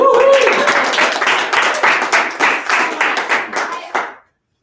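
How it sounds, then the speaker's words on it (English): A room full of people clapping, dense applause that thins into scattered individual claps before stopping. "can we give Kara and Dana another round of applause?"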